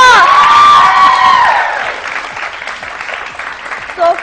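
Studio audience at a Pakistani morning show breaks into loud applause with cheering, starting at full strength and tapering into a steady, lighter patter over several seconds, with a voice briefly calling out near the end.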